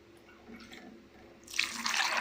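Water is poured over a cup of almonds to soak them overnight for badam barfi. A faint, quiet room tone gives way to a soft rushing pour in the final second, with no talking.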